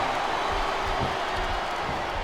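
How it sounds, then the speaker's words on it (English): A capacity wrestling arena crowd roars in the SmackDown Vs. Raw 2007 video game, a dense, steady wash of cheering that stays loud the whole time. "This capacity crowd is making their opinions known tonight."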